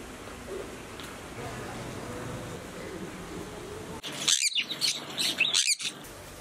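Birds call and chirp at KL Bird Park in Kuala Lumpur, with faint background noise first and then a burst of close, shrill tweets and squawks, mixed with some voices.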